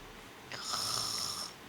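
A person imitates a snore with one drawn-out nasal rasping breath during a tabletop D&D session, close and fairly loud, with no other talk.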